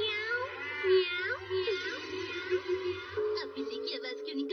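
A person imitates a cat, producing a series of high, wavering meows one after another, fairly close and clear, with a low background hum underneath.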